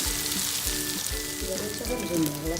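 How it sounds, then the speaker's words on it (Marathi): Surmai (kingfish) pieces fry over a low gas flame with a steady, close sizzle and light crackle, heard beneath tonal background music. "आता आपण कमी गॅसवर त्यांना भाजून घेऊ, आतमधून शिजून निघल्या पाहिजे"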